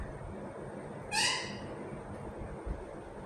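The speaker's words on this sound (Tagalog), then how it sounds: "Yung parrot madaldal." A talking parrot gives a single short, bright squawk of about half a second over a steady low room hum, fairly close, with no speech.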